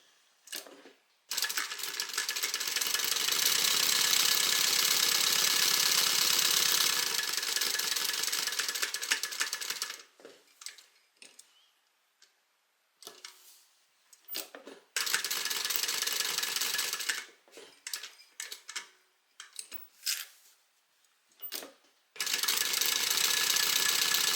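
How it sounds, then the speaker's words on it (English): A sewing machine runs in long steady bursts as it stitches around a fabric rectangle on a lining, pausing between runs with brief clicks and handling noises. "So we're going to sew around the outside of this rectangle."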